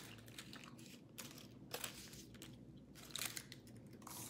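Close, crunchy bites and wet chewing of a chile relleno burrito, a few louder crunches standing out over a steady mouth-noise background, with no talking.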